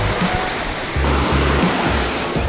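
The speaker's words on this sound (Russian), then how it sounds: "Это море." Sea surf on a white-sand beach in the Dominican Republic rushes loud and close, a continuous wash of breaking waves with low rumbling surges and no voices.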